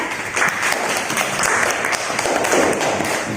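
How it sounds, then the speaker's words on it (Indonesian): A classroom of students claps together in a lively, uneven burst that stays loud and close for a few seconds. "Tepuk tangan dulu kita semua ya."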